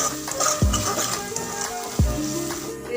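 Ground masala being stirred into an egg curry in a pan, with two sharp spoon scrapes against the pan over a soft background sizzle and no talk.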